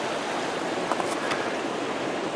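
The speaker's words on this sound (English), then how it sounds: "Here is the creek." A creek flows at the bottom of a canyon in Bandelier, a soft, steady broadband rush heard from a short distance, with a couple of faint brighter splashes and no voices.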